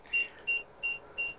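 An SWR power meter's alarm beeps four times in a steady, evenly spaced rhythm, each beep short and close against a quiet background.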